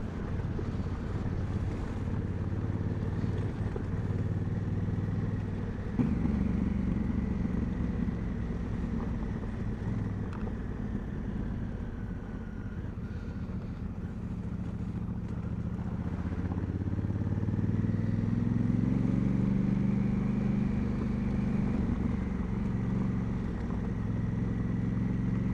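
An Africa Twin motorbike rides a gravel forest track, its engine droning steadily and loudly throughout, with wind buffeting the microphone and the engine note rising near the end.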